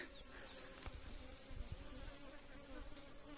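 Honeybees buzzing around a grandfather's overgrown beehive at Thola Pampa in rural Bolivia, a steady quiet hum with a few insects passing close by.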